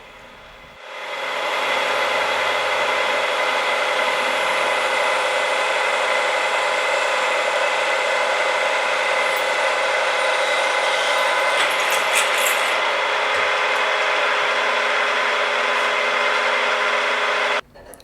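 A steady mechanical whir from a milling machine drilling pilot holes for a combat knife, loud and continuous for over fifteen seconds, with a brief rattle partway through before it stops abruptly.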